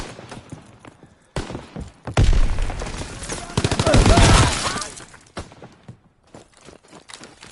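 Rapid automatic gunfire in a PS4 shooter game, a dense sustained burst after a few scattered shots, loud and close, then tapering off into isolated pops.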